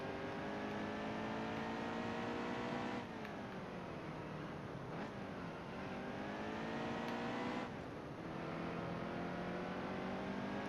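Steady, droning engine of a racing truck lapping the short Martinsville oval in Heat 2. It holds a loud, continuous whine and dips briefly twice as gears change or the throttle lifts out of corners.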